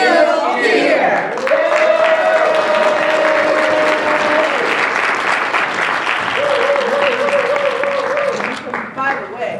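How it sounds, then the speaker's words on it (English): Audience applause and cheering fill the room, a dense, steady wash of clapping that continues loudly for several seconds alongside crowd shouts and whoops. "give yourselves a round of applause"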